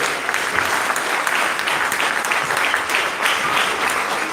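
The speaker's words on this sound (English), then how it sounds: "I want everyone to give our teachers at Tweeties a big round of applause" An audience at a pre-K school leaving exercise applauding the teachers, a dense, loud burst of clapping from many hands that holds steady throughout.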